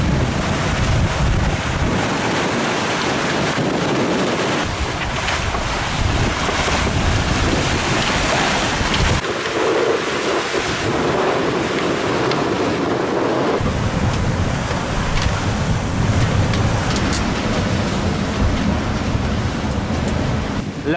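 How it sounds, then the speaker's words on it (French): Sea swell and strong wind batter a sailboat crossing toward Dominica, a constant loud roar of rushing water and wind buffeting the microphone with shifting surges throughout. "La houle est en train de se calmer"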